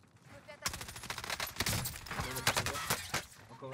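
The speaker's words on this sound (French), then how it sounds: "On me tire dessus." Rapid automatic gunfire bursts in Call of Duty: Warzone, loud dense volleys crackling continuously after a brief quiet start, with no voices.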